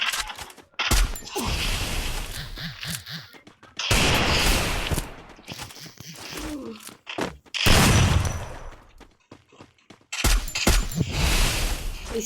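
Shotgun blasts in a video game 1v1 match, a few loud bursts spread across the stretch with quiet gaps between, mixed with other gunfire-like game sounds and a voice talking in places.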